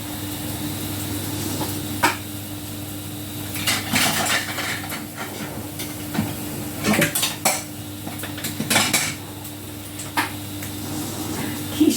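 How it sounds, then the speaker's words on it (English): Eggs for a quiche Lorraine are being mixed in a bowl, with irregular clinks and taps of a utensil against the dish over a steady kitchen hum, near and moderately loud. "start the egg mixture."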